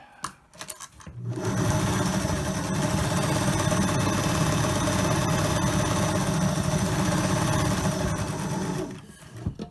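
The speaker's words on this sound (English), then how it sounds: "lay it down, smooth it out, sew the other long side" A sewing machine stitches the long side of a rectangular cloth face mask, running at a steady, loud, continuous whir for about eight seconds before stopping, with no talking.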